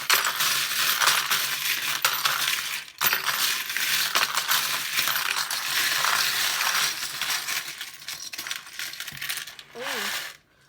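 Small tarot charms are cast onto a table, giving a sustained clinking, rattling clatter with a short break partway through and a brief vocal sound near the end.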